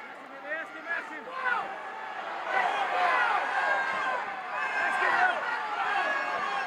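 Crowd at a 1979 professional wrestling match shouting and yelling throughout, a dense noisy roar of many voices with a commentator speaking over it.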